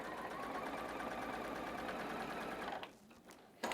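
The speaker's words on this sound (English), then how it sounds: "I just make sure nothing's shifted and I sew right on through it" A sewing machine stitches a fabric quilt block along a drawn line, whirring steadily and close for a few seconds before slowing, stopping, and giving a final brief mechanical clunk.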